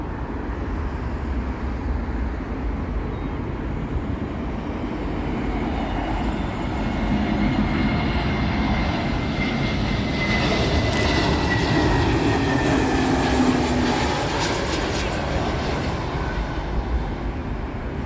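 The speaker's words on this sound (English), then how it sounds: "Turkish A321neo coming in from Istanbul" Turkish Airlines Airbus A321neo jet arriving to land on runway 27L at London Heathrow, a steady loud roar of engine and airflow swelling slightly as it passes close overhead, with no voices.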